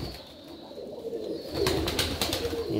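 Indian fantail pigeons at a pigeon farm coo softly and continuously, nearby, with a louder stretch of rustling, fluttering bursts toward the end.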